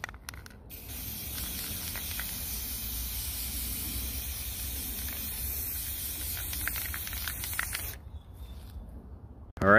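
Rattle can spray paint, olive drab green base coat, hissing steadily onto a gun prepped with masking tape, one long continuous close burst of about seven seconds before stopping.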